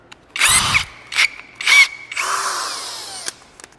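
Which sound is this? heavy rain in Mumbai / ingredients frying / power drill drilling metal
power drill drilling metal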